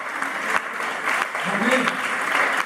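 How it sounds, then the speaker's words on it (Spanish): A church congregation applauds during a Sunday service, a dense, steady clatter of many hands, with a voice speaking over it. "Denle ese aplauso."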